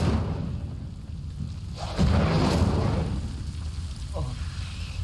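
Incendio fire spell cast in the video game Hogwarts Legacy, a loud whooshing burst of flame that swells near the middle and fades out, with a smaller flare near the end.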